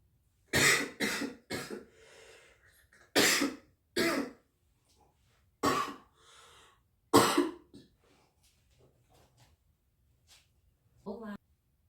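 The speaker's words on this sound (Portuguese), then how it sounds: "eu precisei dar uma pausa no vídeo que deu uma crise de tosse" A woman with a cold has a coughing fit: a series of loud, harsh coughs and throat clearing in irregular bursts separated by quiet breaths, close to the microphone.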